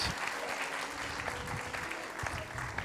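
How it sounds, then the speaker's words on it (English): Wedding guests applaud at a Hindu ceremony, a steady patter of many hands filling the hall at a moderate level, with faint voices mixed underneath. "Can we ask one more time a big round of applause?"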